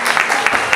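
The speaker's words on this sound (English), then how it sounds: "Please give Shivani, Trinika and Kushi one more round of applause" Applause from an audience at a Kuchipudi dance recital, honouring a trio of dancers; a brief, steady wash of hand claps with no clear gaps.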